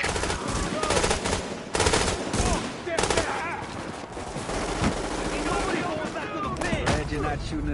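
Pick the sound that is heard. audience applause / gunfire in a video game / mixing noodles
gunfire in a video game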